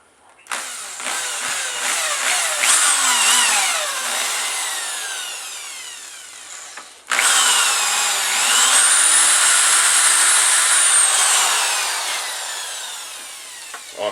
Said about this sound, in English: I'm going to go ahead and do starter holes in each one of these